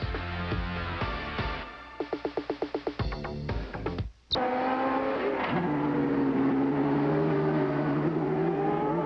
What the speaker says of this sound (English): with a quick excursion off the racetrack, Randy Lewis, who came flying off of the corner